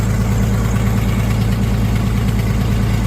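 An old Gasser 190 tractor with a 265 cubic inch gasoline engine idles steadily and close by, a continuous low, even rumble with a slight leaky-manifold chuff and no talking.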